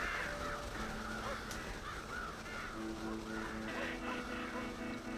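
Crows caw repeatedly in the Red Dead Redemption game world, harsh calls recurring through the stretch over a steady ambient background.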